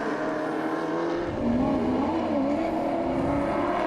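Historic race cars, including a Camaro and a Ford Mustang, race at Sandown, with loud, continuous engine roar and shifting revs as the cars pass close by.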